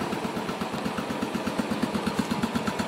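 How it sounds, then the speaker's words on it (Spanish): A Royal Enfield motorcycle engine with Euro 4 emissions idles steadily up close, its rapid, even chugging pulses repeating without pause. "le hacemos poner las motos en marcha acá para el vivo"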